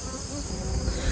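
Honeybees swarm densely over a freshly built-out brood frame in a working colony, giving a steady, close, even buzz throughout with no voices.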